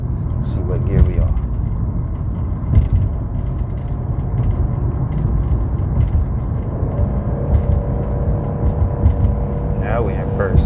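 A 2014 Jeep Cherokee engine rumbles steadily while driving in first gear, heard from inside the cabin as a continuous low drone with road noise beneath people talking.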